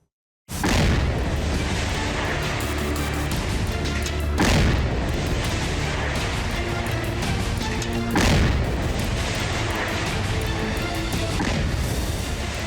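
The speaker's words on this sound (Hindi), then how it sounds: "आतंकियों के ठिकानों पर बमों का बौछार हुआ।" Continuous heavy booming and roaring from explosions as terrorist hideouts in the Kashmir valley are bombed, loud and dense throughout, with two stronger blasts standing out.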